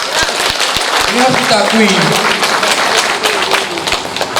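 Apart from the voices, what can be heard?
audience applause at a speech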